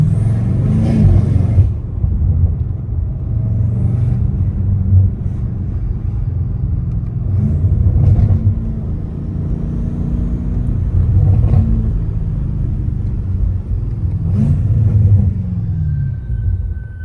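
BMW M8 Competition exhaust while driving, a loud steady low rumble with a few rising revs, heard from inside the car with the window down and no talking.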